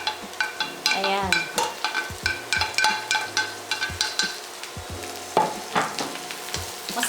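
Carrots and chili peppers fry together in hot oil for lasagna, a steady close sizzle broken by repeated metallic scrapes and clanks of a utensil stirring the pan.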